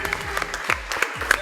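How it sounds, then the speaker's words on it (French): Short burst of audience applause at a New Year celebration, scattered claps over a low musical background. "On applaudit pour Abdul Aziz Maïga"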